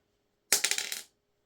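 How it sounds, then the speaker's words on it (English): A four-sided die tossed onto a hard surface, landing with a sharp clatter followed by a quick run of small bouncing rattles that fade within half a second, close up and otherwise silent. "Let's roll a 4-sided dice"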